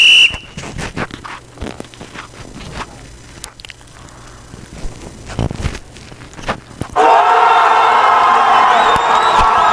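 Crowd cheer for a goal in a simple Scratch soccer video game, a sudden loud burst of cheering and whistling that erupts after quieter clicks and footstep-like knocks and holds steady to the end.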